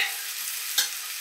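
Marmite-coated potatoes with onions being stirred in a hot pan, a bright steady sizzle with one brief scrape of the spoon partway through, close and fairly quiet.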